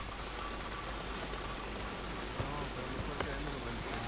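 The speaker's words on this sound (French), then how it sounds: "Ah, ça y est, la pluie!" Steady, dense rainfall in the video game Despelote patters continuously, with a few louder drops or knocks standing out near the end.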